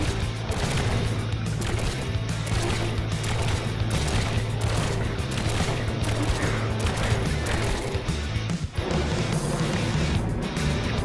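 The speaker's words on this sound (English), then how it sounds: "I shot him, but he's all off course now." Gunfire in the Trailmakers building game as a player shoots an enemy craft: a dense, continuous clatter of shots and impacts over a low rumble, loud and sustained, with one brief dip near the end.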